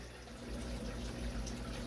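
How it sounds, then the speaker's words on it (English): An aquarium air pump pushes air through an air stone in a 55- or 60-gallon tank, giving dense, steady bubbling and fizzing that stays loud and constant throughout, with no voices. "that is an awful lot of bubbles for a 60-gallon tank air pump"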